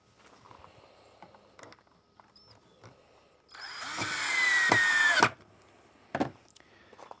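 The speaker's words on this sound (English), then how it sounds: "drill the second one" Quiet workshop handling noises, then a power drill whirs for about two seconds as it drives a screw into wood, followed by a few knocks.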